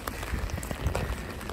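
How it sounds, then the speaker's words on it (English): Steady rain falls outdoors in a parking lot, a dense broadband patter of drops with scattered louder splashes, heard close while walking with no talking. "it's raining even harder now"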